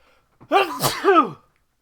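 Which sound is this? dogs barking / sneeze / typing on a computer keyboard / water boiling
sneeze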